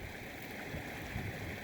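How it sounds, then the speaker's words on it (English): Steady broadband rush of a river flowing through Montana wilderness, a continuous close wash of water with faint gurgling and no voices over it. "There's the river."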